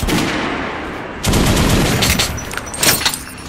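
Rapid bursts of gunfire at a shooting range in the video game Metro: Last Light Redux crackle loudly and continuously, with a brief lull before another dense volley of shots.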